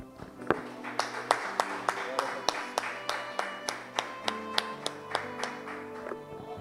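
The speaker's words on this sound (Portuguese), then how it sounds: "um aplauso ao Senhor" A church congregation claps in a steady, evenly spaced rhythm, roughly twice a second, over sustained instrumental music, fairly close and clear.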